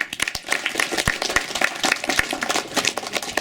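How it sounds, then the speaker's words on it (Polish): Applause at a prize ceremony for an open chess tournament, with brisk scattered hand claps from a modest indoor crowd, fairly close and continuous for a few seconds. "Dziękujemy. Wielkie brawa."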